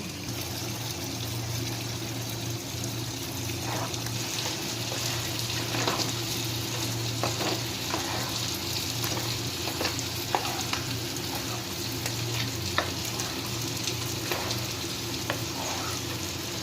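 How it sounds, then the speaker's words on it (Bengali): Chicken cooking down for biryani in hot oil with coriander and mint makes a long, steady sizzle with watery bubbling. Soft scrapes of stirring repeat irregularly over a low background hum, and nobody speaks. "চিকেনটা 10-15 মিনিট ভালো করে কষিয়ে নিতে হবে"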